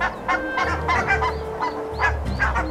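Barnacle geese, Arctic cliff nesters, honk close and loud in a series of several overlapping nasal calls over a steady background.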